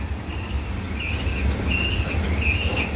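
An oil tanker freight train rolls past in Jersey City, a steady loud rumble of heavy wagons with repeated high wheel squeals rising over the roar, close by and continuous.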